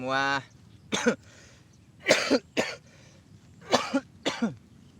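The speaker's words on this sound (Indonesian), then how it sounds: "Kayak batuk nih." Someone coughs close by in repeated short bursts, mostly in pairs, with brief pauses between each fit.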